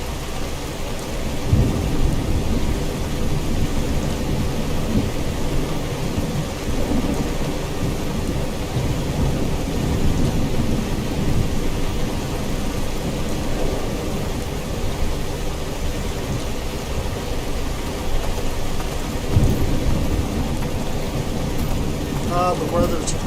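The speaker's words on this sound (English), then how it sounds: "Fog, rain, thunder." Thunder rumbles repeatedly under steady, heavy rain in the video game Skyrim, the downpour a continuous close wash with a few louder rolling peals, and a voice speaks briefly at points.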